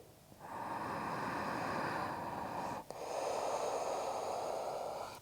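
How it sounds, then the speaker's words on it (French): Deep, steady breathing during a yoga session, a long continuous airy exhale-like rush with one brief break near the middle, close and fairly quiet with no talking. "Une dernière respiration ici."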